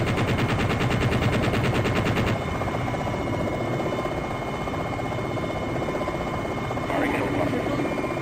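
In the Jane's Longbow helicopter game, the rotor drones continuously and cannon fire rattles rapidly for the first couple of seconds before stopping, then the engine noise continues alone with brief radio-style chatter.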